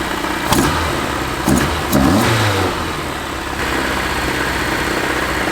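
A Honda-powered drift car engine with individual throttle bodies idles high and uneven, with a few short throttle blips rising over the steady close-up rumble.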